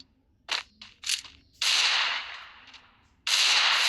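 Gunfire in a video game shooter: several short sharp cracks in quick succession, then longer bursts of noisy blasts, loud and close with silent gaps between.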